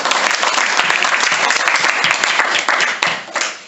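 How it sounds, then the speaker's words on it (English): An audience claps after children recite a Sanskrit shloka, a dense and lively round of applause that rings close for a few seconds before it tapers off. "One clap."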